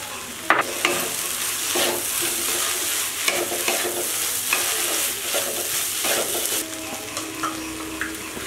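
Potato mince frying in a pan with cumin and coriander powder for a Bengali stuffed potol dolma, a steady close sizzle broken by repeated scraping stirs, with no voices.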